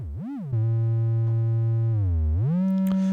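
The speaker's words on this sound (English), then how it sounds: "This is the sine wave." A clean sine wave tone from a Behringer ARP 2500 synthesizer oscillator glides up and down in pitch, settles into a steady hum, then sweeps upward again. The tone is pure and continuous, with no voice.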